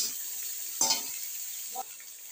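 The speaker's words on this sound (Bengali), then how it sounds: "তার মধ্যে কিছুটা পরিমাণ সর্ষের তেল দিয়ে কালো জিরে শুকনো লঙ্কা ফোড়ন দিয়ে আমি কুচি কুচি করে কেটে রাখা পেঁয়াজগুলো ভেজে নিচ্ছি।" Finely chopped onions fry in mustard oil with nigella seeds and dried red chillies, giving a soft continuous sizzle broken by a couple of brief stirring scrapes.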